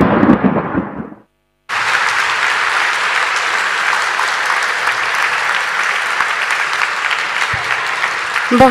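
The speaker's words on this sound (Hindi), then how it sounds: "सभी कलाकारों के लिए एक बार जोरदार ताली बजाएंगे।" Audience applause for performers at a patriotic stage show: a brief burst of sound cuts to silence, then loud, dense, sustained clapping fills the rest, steady and close without talk.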